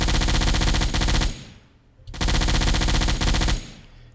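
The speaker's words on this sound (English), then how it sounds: "I had a request to show off the anti-air gun." A submarine's anti-air gun in Silent Hunter 4 fires loud, close, rapid bursts: one sustained volley, a brief pause, then a second long volley, with no talking.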